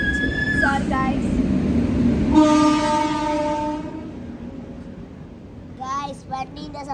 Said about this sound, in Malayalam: വണ്ടീന്റെ സൗണ്ട്.